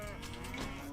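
Cattle mooing in Age of Empires II, a short steady in-game cow call with sustained tonal lowing, moderately loud over faint game ambience, no talk.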